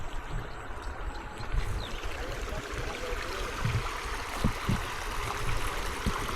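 Water running along a freshly dug drainage channel in garden soil, a steady low wash and gurgle with scattered knocks, moderately close, no voices.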